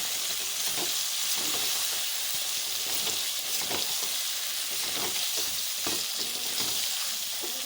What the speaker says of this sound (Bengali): এবার কুক করে রাখা মটনটাকে দিয়ে দিচ্ছি। মটনের সঙ্গে মশলা খুব ভালো করে কষিয়ে নেব।